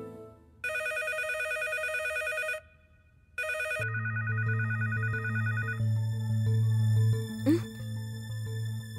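A telephone rings in two long electronic trilling bursts with a short pause between, then a low steady hum and a brief rising chirp follow, with no talking.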